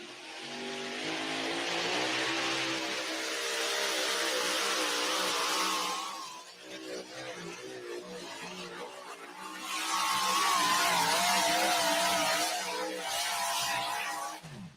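An orange Farmall tractor engine roars under load at a tractor pull. It is loud and sustained, the pitch rising and falling in two long surges with a brief dip between them.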